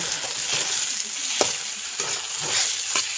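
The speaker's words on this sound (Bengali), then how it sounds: "তা করছি হচ্ছে কাঁচা টমেটো ভাজা" Raw tomatoes fry in a well-used kadai, hissing and sizzling steadily close up, with a few sharp scraping clicks from stirring spaced through.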